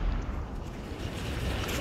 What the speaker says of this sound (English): Oh, he completely dried out. That's a giant explosion.